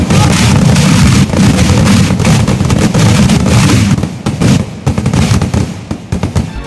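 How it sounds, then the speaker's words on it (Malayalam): A competitive fireworks display between two rival groups at a church festival in Kerala, a dense continuous barrage of loud booming blasts and crackling bursts close by, with no talking. "അതുപോലെ രണ്ട് വിഭാഗത്തിന്റെയും മത്സരിച്ചുള്ള വെടിക്കെട്ടുണ്ട്"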